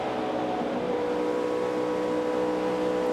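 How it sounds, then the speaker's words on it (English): In-car engine of Greg Biffle's NASCAR Sprint Cup race car on a restart in the 2008 Bank of America 500, droning loud and steady as the throttle is worked back and forth, with no talk over it. "Hear him on the throttle, working it back and forth, trying to get a good run on this 5 car"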